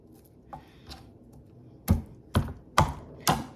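Fresh garlic cloves get whacked to loosen their skins: two light taps, then four sharp, evenly spaced knocks, close and crisp against a quiet background.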